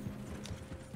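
Horse hooves clip-clop softly and steadily on the ground in the Western video game Red Dead Redemption 2, a quiet, low rhythmic plodding with no talk over it.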